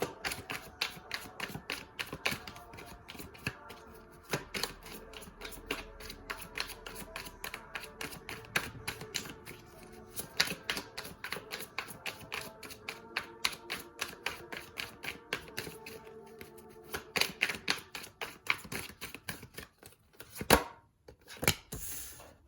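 Fountain Tarot cards being shuffled and pulled make a long stream of quick, crisp close-up taps and flicks. Denser riffling bursts and a few louder snaps come near the end, with no talking.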